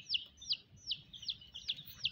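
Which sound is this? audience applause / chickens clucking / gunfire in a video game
chickens clucking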